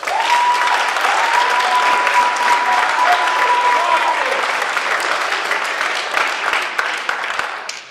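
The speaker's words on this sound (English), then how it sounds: "give them a little round of applause" Sustained audience applause at a high school speech team send-off, a dense wash of many hands clapping that stays loud and steady for several seconds before gradually thinning, with a faint tone lingering beneath the early part.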